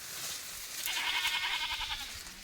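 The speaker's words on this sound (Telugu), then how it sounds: "ఇదిగో మేకలు" Goats bleat in the open at a tribal hillside village, a quavering wavering call rising over faint background noise, moderately distant.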